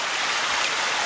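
Polluted mine water gushes down Gold Mine Run stream, a loud, dense, steady rush of splashing water close by, with no voices.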